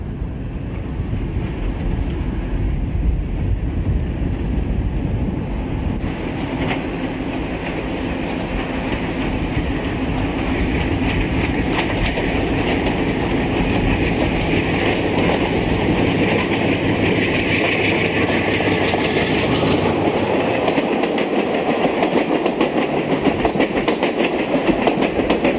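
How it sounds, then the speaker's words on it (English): An express train on Mexico's Pacifico Railroad passes near the airport road overpass heading south, a loud continuous rumble with clickety-clack and wind buffeting the microphone, fading slightly near the end. "we get an overhead shot of the train heading south."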